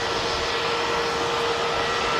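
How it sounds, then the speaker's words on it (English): An EasyJet Airbus A320neo jet taking off for Athens, a steady loud broadband engine roar with a sustained tonal whine, continuous throughout with no voices. "An EasyJet's heading off to Athens."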